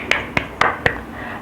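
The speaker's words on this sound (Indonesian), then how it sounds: "tepuk tangan yang jawabnya benar." Four separate sharp claps land about a quarter second apart, crisp and moderately close. They come from a children's Sunday school class during an Easter guessing game, with faint room tone between them.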